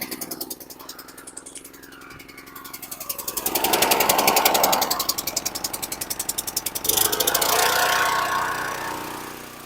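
A Stihl RB 200 pressure washer's engine runs close by, a loud, rapid, pulsing combustion chug that swells in intensity twice as the pump comes up to pressure.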